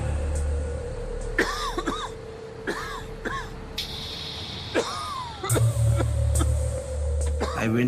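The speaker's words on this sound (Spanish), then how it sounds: "empecé a toser y a toser y a toser" A person coughs repeatedly in short, harsh bursts amid gas leaking from a chemical plant in Bhopal. The coughs are spread over a steady low background rumble, and voices come and go around them.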